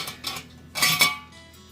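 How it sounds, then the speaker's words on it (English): Metal colander or sifter clatters as mashed potatoes are pushed through for potato candy, giving a few bright scraping, rattling bursts with brief pauses between them, close and fairly loud, with no talking. "you're gonna take your colander or your sifter and make a bunch of noise"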